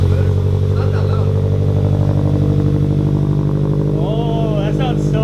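A Toyota GT86 with Tomei titanium exhaust headers idles and revs steadily up close, a loud, deep engine rumble with a throaty exhaust tone throughout.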